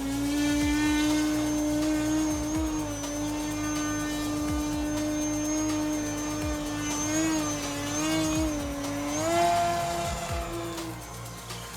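An E-flite Turbo Timber Evolution radio-controlled plane flies with a steady, loud electric motor whine, the pitch holding nearly level and rising briefly as power is added, with no voices heard.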